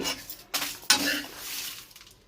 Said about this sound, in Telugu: ఇప్పుడు వీటిని మిక్సీ జార్లో తీసుకుంటున్నాను